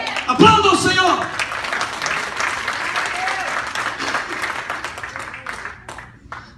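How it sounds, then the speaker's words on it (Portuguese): A church congregation breaks into sustained applause, loud and close, mixed with cheering voices at the start and slowly tapering off toward the end. "Aplauda o Senhor."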